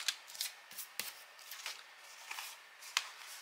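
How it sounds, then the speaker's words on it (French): Paper is creased into folds for a scrapbook album page, giving quiet, close, scattered rubbing and crisp pressing sounds with brief sharp taps, faint overall and without speech. "On marque les plis."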